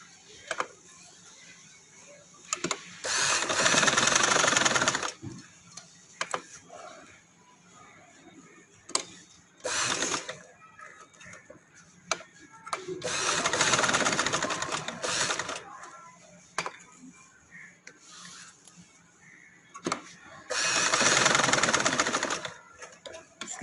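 A sewing machine stitches along the edge of a daman, running in several whirring bursts separated by pauses, with a voice talking softly between them.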